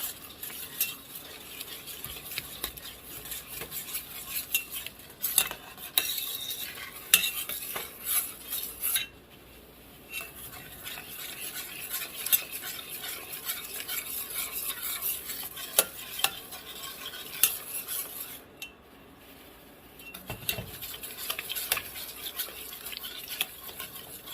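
Spoon stirring sugar into a pot of elderberry and blackberry jam, with repeated scraping and clinking against the pan over a faint simmer, close and quiet, with short pauses.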